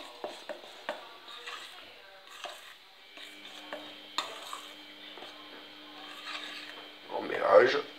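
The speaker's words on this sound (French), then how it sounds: "On mélange." Cake batter with vanilla sugar and a little baking powder being stirred in a bowl: scattered soft scrapes and light clinks, ending in a louder, brief mixing burst.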